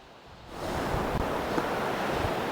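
Water rushing out of a pressurized WaterPORT camping water container mounted on a 4Runner's bumper bull bar, a steady broadband hiss that starts after a brief quiet moment and holds at an even level.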